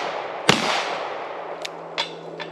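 A single sharp revolver gunshot cracks early, followed by fainter distant pops and clicks over a steady background hiss.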